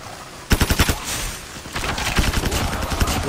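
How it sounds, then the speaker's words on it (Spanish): Rapid bursts of video game gunfire, a quick volley of about six shots followed by more scattered automatic fire, loud and close with no talking. "Porque como tengo doble bala, doble tiro, pego dos tiros y paso como a 3 o 4."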